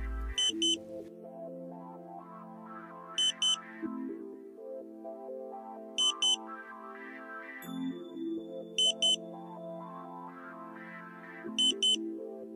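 Satellite modem SNR meter pointing tone during a Tooway KA-sat dish installation: a repeating electronic beep pattern, short high double bleeps roughly every three seconds over a sustained warbling tone, clear and alone.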